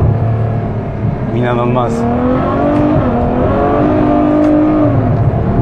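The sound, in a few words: Ferrari F12 Berlinetta engine revving on dual-clutch downshift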